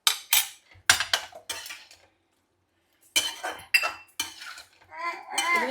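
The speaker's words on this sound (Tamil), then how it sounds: "இப்போ இந்த பருப்பு அவிச்சு வச்சிருக்கிற பருப்பை போட்டுருவோம்." Boiled lentils go into a pan for a bitter gourd dish, with sharp clinks of a metal spoon against the pan and short scraping stirs in bursts, separated by a couple of seconds of silence.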